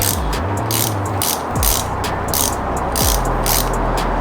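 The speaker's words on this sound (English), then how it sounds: "he has a torque wrench. Tighten everything down the spec" A torque wrench tightens bolts on a welded differential, giving rapid, loud ratcheting clicks in repeated bursts, close by and with no talk.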